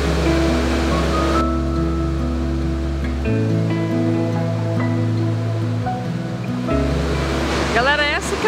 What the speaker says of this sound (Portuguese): cachoeira, que é a Cachoeira do Simão, é uma das mais visitadas aqui em Gonçalves